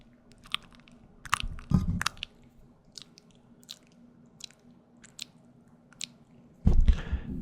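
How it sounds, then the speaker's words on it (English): Wet, sticky clicks and smacks from a mouth, scattered irregularly with a few louder squelchy bursts, very close and quiet otherwise. "it's going to be the sound of your tongue separating from the roof of your mouth"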